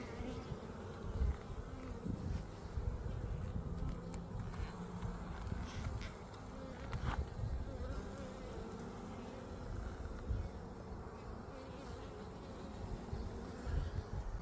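Honey bees working a frame in a beehive, a dense continuous buzzing hum close up and steady throughout, with faint handling rustles underneath.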